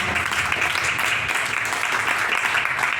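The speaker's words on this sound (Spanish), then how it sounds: "el primero en pasar va a ser Manuel Algara, para que les pido un aplauso fuerte," Audience applause for Manuel Algara at a literary open-mic event, a steady, dense wash of clapping holding evenly for the full three seconds with no voices over it.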